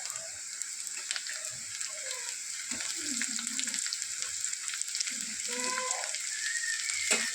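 Potatoes added to onions frying in a pan, a loud, dense close sizzle that swells as they hit the oil, with scattered stirring scrapes and clatters, no speech.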